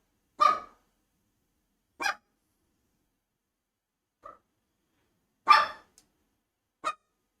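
A pet dog barks five times: sharp single barks spaced a second or two apart, with one softer yip in the middle, against a quiet room.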